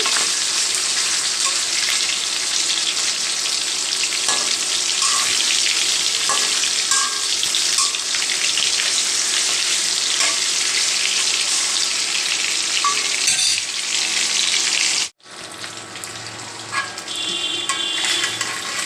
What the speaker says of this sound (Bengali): মাছগুলো উল্টিয়ে দিচ্ছি